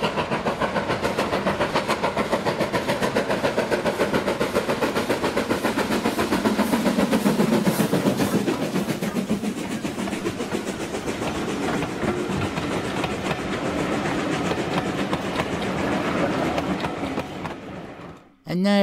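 A BR Standard Class 4 steam locomotive, number 76084, passing at Weybourne on the North Norfolk Railway: a steady rumble and rhythmic clickety-clack of wheels on rail, loud and close, fading near the end, under narration.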